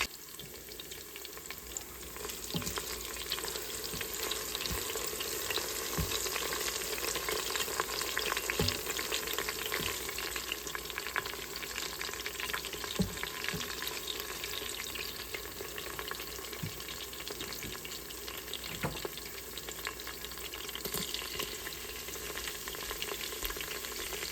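Garlic sautés in hot oil in an Instant Pot, a continuous close sizzle and crackle with light stirring clicks, steady throughout, no talking.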